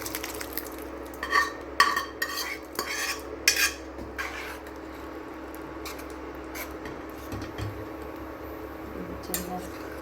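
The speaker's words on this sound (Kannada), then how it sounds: "ಈಗ ಸ್ಮ್ಯಾಶ್ ಮಾಡಿಟ್ಟಿರೋ ರಾಜ್ಮಾನ ಬಾಣಲೆಗೆ ಹಾಕ್ಕೊಳ್ಳೋಂತೆ." Mashed rajma (kidney beans) goes into a pan and is stirred into a North Indian style gravy. Scattered close utensil scrapes and clinks come in short bursts over a quiet kitchen background.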